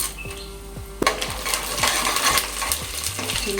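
Chana dal tipped into hot oil with spluttering mustard seeds, a sudden burst at one second giving way to steady crackling, sizzling frying and a few metallic clinks of a pan and spoon, close and alone.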